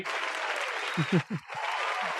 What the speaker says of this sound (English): it was a lot of applause there